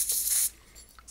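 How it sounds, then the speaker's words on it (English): An aerosol cleaner sprays onto the potentiometers and small switches of a Philips CM8833-II CRT monitor: one close hissing burst of about half a second, then a quiet pause and a short second puff. "So, I'm gonna spray some in here."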